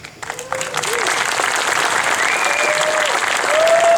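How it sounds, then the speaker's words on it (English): Audience applause at an LGBTQ leather community event at a campground, steady broadband clapping that swells toward the end, with faint voices and whistles over it. "Please give them all a round of applause."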